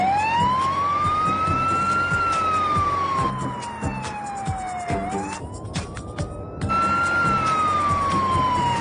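An emergency vehicle siren wails during a taxi chase, rising and falling in long sweeping cycles over traffic noise, loud and continuous, with no speech.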